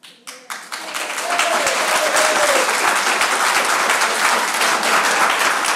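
Audience at a county commissioners' meeting breaks into sustained applause after a brief opening sound, a dense wash of many hands clapping that holds steady and loud to the end.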